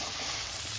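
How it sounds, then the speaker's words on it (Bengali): Crab pieces with turmeric and salt fry in hot oil, giving a steady, dense sizzle that holds at an even level for the whole short stretch, with no talking. "কেটে রাখা কাঁকড়া দিয়ে দিচ্ছি তেলের মধ্যে"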